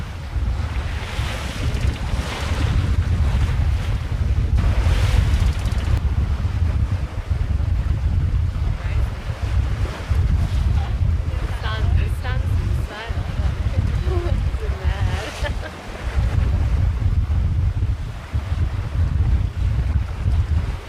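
Sailing across open water between Fraser Island and Urangan in about 20 knots of breeze, heavy wind roars over the microphone while waves wash and slap against the hull; faint voices come through briefly now and then.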